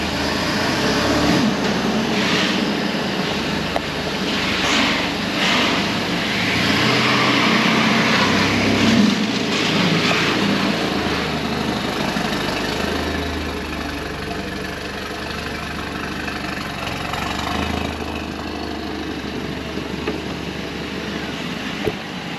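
Mercedes-AMG A45S with a Cobra downpipe and Milltek race exhaust, stage 2 tuned, droning steadily as it drives on the road, a constant near engine rumble with no talk over it.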